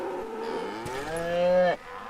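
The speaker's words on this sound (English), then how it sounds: "I made sure to say hi to the cows, or bulls, or whatever they are." A cow moos in a barn in the Western shooter Call of Juarez Gunslinger, one long, loud, drawn-out low bellow that rises, then cuts off.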